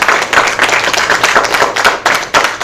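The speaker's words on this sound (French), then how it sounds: "Maintenant, vous devez applaudir." Audience applause at a public declaration event in Abidjan, Côte d'Ivoire: close, dense clapping from a crowd, sustained for a few seconds with irregular peaks.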